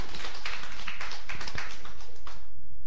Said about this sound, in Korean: 박수 한번 주십니다